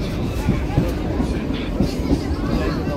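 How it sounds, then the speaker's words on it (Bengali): A Bongaon local train pulls out of Ranaghat station, its steady low rumble and rhythmic wheel clatter carrying through alongside a hum of passenger chatter. "রানাঘাট থেকে ছেড়ে গেল বনগাঁ ট্রেনটা 1:30টার সময়"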